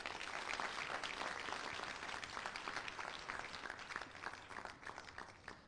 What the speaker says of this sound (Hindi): तो आइए जरा जोरदार तालियों के साथ इस कार्यक्रम का आगाज करते हैं।